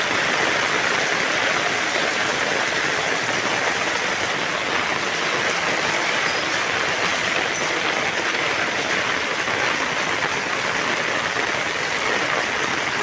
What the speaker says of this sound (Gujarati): જો કેટલો વરસાદ.